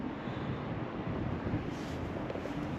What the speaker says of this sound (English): And again, I think that might be wind.